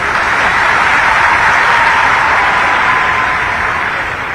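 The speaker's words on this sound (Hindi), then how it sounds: "ताली जोर से बजाओ ना" Sustained, loud applause from a large audience of schoolchildren at a school event, a dense even clatter of clapping filling the whole stretch without pause.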